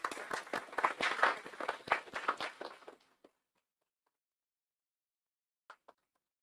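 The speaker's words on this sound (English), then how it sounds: "Let's give them a round of applause." Audience applause at a press conference celebrating national Commonwealth and Pan Am athletes, brisk close clapping for about three seconds that stops abruptly, followed by silence and a couple of faint late claps.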